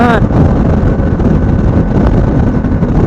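Heavy wind buffeting the microphone while riding a KLR 650 motorcycle at highway speed, a loud, continuous roaring rush with no break.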